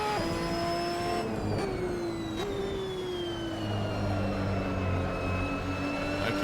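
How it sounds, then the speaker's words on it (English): In the Assetto Corsa racing game, a race car's front tires scrub as the car slides sideways out of a corner. The hiss runs under a loud, close engine whose revs drop and climb again through gear changes. "I can hear the front tires scrubbing."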